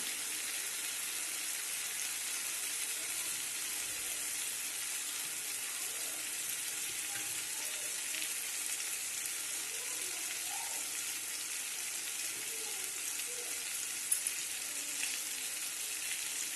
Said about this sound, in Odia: ଟମାଟୋକୁ ଏମିତି ଭଲ ଭାବରେ ଭାଜି ନେବେ ଆଉ ମିଶେଇ ବି ଦେବେ